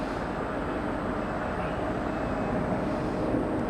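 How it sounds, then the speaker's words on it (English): A Korean Air Boeing 747 airliner at Los Angeles, a steady, loud broadband jet roar with a constant low rumble throughout, heard from a plane-spotting spot without talking. "I love seeing this one. One of the prettiest planes and livery combos, this Korean Air 747."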